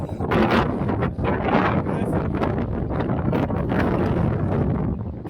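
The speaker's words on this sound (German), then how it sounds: "Es ist ganz schön windig." Strong wind buffets the microphone in continuous loud gusts, a broad rushing roar throughout with faint voices underneath, outdoors in San Francisco.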